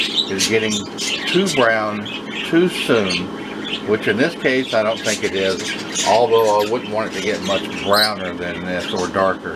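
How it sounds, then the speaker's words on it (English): Pet birds squawk and chirp repeatedly in the background of a home kitchen, sharp calls scattered throughout, under steady close talking from a woman baking banana nut bread. "because of the birds that we have, and you can probably hear them in the background"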